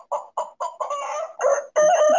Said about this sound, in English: you got a cluck and a crow